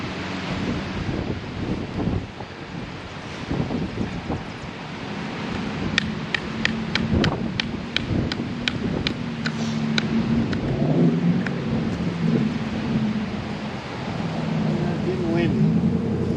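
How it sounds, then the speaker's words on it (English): Outdoor wind buffets the microphone with rumbling gusts throughout, while a person talks and a series of sharp knife taps on wood sounds during spoon carving. "Getting windy."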